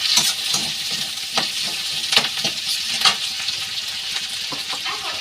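Capsicum and onions fry in a pan with a steady, close sizzle, broken by repeated scraping stir strokes; no one speaks.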